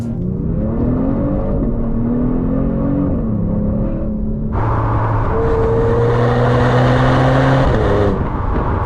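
A Genesis G70 sport sedan's engine drone climbs steadily, then jumps sharply in pitch and loudness as it revs on a paddle-shift downshift, heard from inside the car with a smooth sustained tone.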